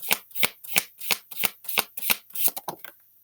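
A deck of tarot cards is shuffled up close for a reading, with about ten crisp riffling bursts in a quick, regular rhythm, the last few coming faster and fainter.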